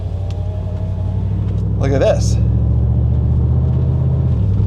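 A small 126 car with holes in its exhaust idles with a throaty, low rumble that holds steady throughout, while a person talks briefly over the engine noise.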